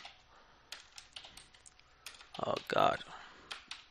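Quick, light keystrokes patter on a computer keyboard, quiet and uneven, while someone mutters briefly; a short burst of louder noise crowds in near the end.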